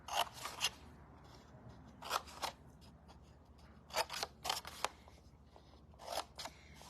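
Scissors trim cardstock for a card box, close, quiet crisp snips that come in small clusters separated by brief pauses.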